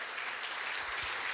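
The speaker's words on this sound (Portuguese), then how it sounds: "dá uma salva de palmas para o Senhor Jesus" Congregation in a church clapping for Jesus, a short burst of dense applause at steady loudness with no speech over it.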